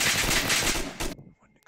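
Gunfire in the VR shooter Onward: a rapid burst of shots followed by one sharp crack, then an abrupt drop to near silence with faint sounds after, close and moderately loud.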